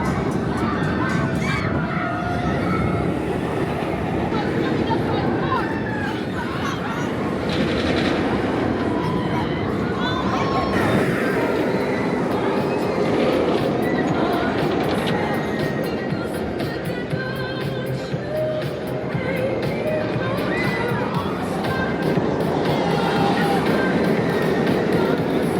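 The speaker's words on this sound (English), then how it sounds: "right by the front of the park is their B&M floorless roller coaster" B&M floorless roller coaster Dominator at Kings Dominion, a steady loud rumble and roar of the train on its track lasting the whole stretch, with crowd noise and voices mixed in.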